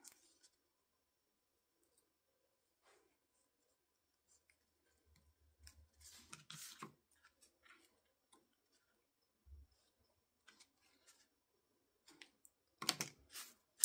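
Scissors snipping off paper ribbon tails while making a handmade card: a few faint, sparse snips and clicks in a quiet room, with a small cluster of sharper cuts near the end.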